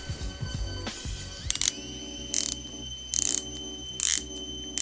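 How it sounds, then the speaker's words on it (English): Rotating bezel on a Longines Hydro Conquest watch, close-up crisp clicks in short bursts of ratcheting, four or five separate turns over faint background hum, no voices. "let's hear that bezel"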